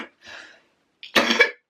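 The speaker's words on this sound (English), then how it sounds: "I don't know where that cough came from" A single adult cough, close and fairly loud, erupting in a short rough burst after a softer breathy sound, in a quiet indoor room.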